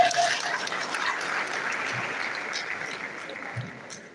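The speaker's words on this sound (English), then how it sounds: "A round of applause for our guest." Ceremony guests at a university induction for newly qualified doctors give a round of applause, a steady, moderately distant wash of clapping with little voice over it.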